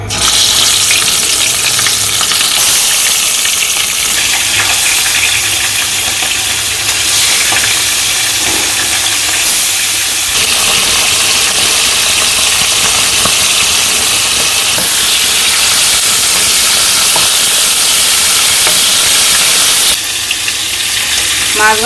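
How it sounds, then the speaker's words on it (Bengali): Fish coated in salt, turmeric and chili sizzles loudly in hot oil in a village kitchen wok, a steady dense crackle running the whole time with faint stirring underneath and no talk. "তেল গরম হয়ে গেছে, মাছগুলো দিয়ে দিই।"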